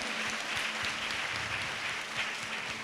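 A church congregation claps loudly during a fasting prayer service, a dense, sustained wash of many hands striking at once with no pause, the crowd close and filling the room.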